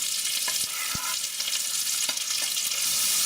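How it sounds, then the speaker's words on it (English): One large onion and a stick of celery fry in a butter and oil mix, a steady close sizzle broken by a few light clicks and taps of a utensil in the pan. "we're going to fry off one large onion and one stick of celery"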